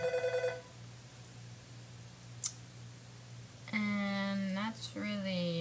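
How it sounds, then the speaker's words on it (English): Mobile phone ringtone for an incoming text message, heard as a short tonal burst at the start and then a louder melodic electronic tune after a quiet gap. "I'm getting a text now."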